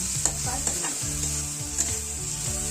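Tomato masala for Malvani prawn curry sizzles in a pan while being stirred, with repeated scraping strokes over a steady frying hiss close by.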